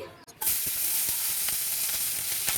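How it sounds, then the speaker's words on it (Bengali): Chopped onion dropped into hot oil for baigan bharta, bursting into a sudden loud sizzle after a brief quiet moment, then crackling steadily up close with a few faint stirring taps. "দিয়ে দিচ্ছি পেঁয়াজ কুচি"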